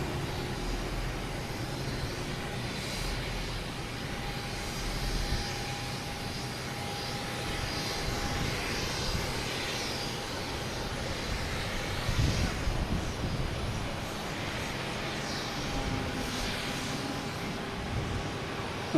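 A JetBlue jet airliner flies over Boston Logan Airport, its engine roar a steady distant wash that swells slightly midway and lingers without any talk.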